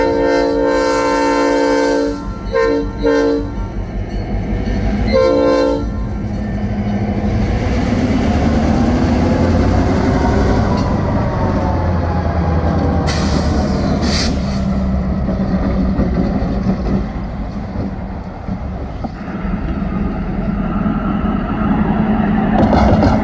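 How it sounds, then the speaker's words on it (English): A CN freight train moves a boxcar on the Aetna spur off the Freeport Sub in Rockford, with loud horn blasts at the start and again midway over a continuous close, heavy rumble of the moving train. "After retrieving the boxcar in a move that only took 4 minutes, they returned to the Freeport sub main."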